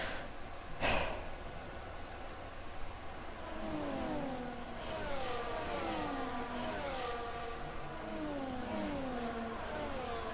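Race cars in a racing video game set at Silverstone pull away on the formation lap, several engines rising and falling in overlapping revving sweeps at moderate volume after a brief sharp noise near the start.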